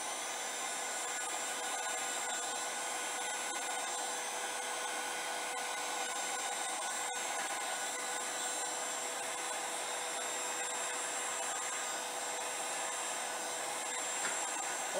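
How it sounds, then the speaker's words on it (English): A heat gun blows steadily while warming poured resin for a sculpture bowl, giving a constant, even, whining airflow hum with no breaks and no talking. "So what I'm gonna do is I'm gonna blow this out. My heat gun."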